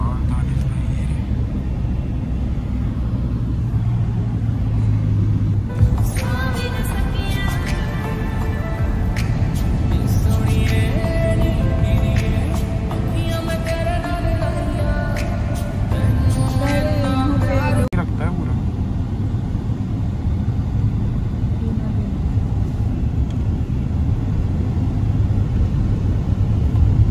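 Steady low road rumble inside a car riding through Bahria Town, Karachi, continuous throughout with people talking over it in the middle stretch.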